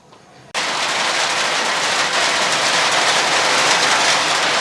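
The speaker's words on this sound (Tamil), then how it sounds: "மழை நிற்கிற மாதிரி தெரில." Steady heavy rain pours down at a riverside resort during an evening campfire, a dense, loud hiss that starts abruptly and continues unbroken, with no voices over it.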